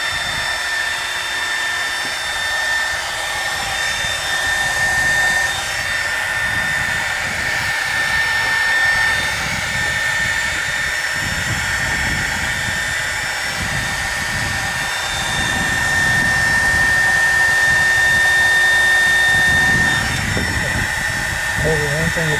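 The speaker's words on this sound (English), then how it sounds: "Okay, the heat gun is on high." A heat gun runs on its high setting outdoors during a rodent-damage restoration of an HHR, giving a steady, loud blowing roar with a faint whine that holds throughout, with a voice occasionally heard beneath it.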